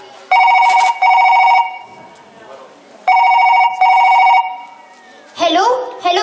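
A telephone ringing in repeated loud double bursts of electronic trilling, separated by short pauses, with a voice speaking briefly near the end.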